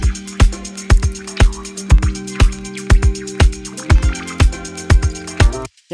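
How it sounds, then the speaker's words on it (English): A vinyl track runs through a limiter and a fast auto filter, giving a loud, steady beat of regular thumping hits under warbling, wobbly tones, ending with a brief cutoff. "run it through the auto filter with the very, very high rate and amount turned up, so you're going to get these weird quibbly, squibbly, wobbly wobbles"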